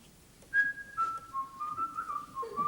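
A person whistles a short, wandering tune, a few sustained notes sliding gently downward, faint and close, with no talking.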